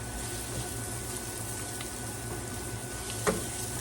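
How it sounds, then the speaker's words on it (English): Garlic sizzling in a pan while cooking for a chicken and rice dish in cream sauce, a quiet, even frying hiss throughout with one brief clink near the end. "Stir that around, let that cook for a minute, just until you can smell the garlic in the air."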